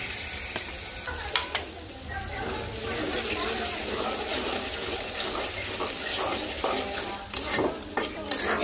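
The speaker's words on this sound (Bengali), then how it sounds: "পেঁয়াজটা ভাজা হয়ে গেলে আদা রসুন বাটা দিব, দিয়ে ভালো করে ভেজে আবার জিরা বাটা দিব, দিয়ে ভালো করে ভাজবো।" Onion frying with ginger-garlic paste in a pan, a close steady sizzle broken by repeated scraping and clattering strokes of stirring, some bunched in quick bursts.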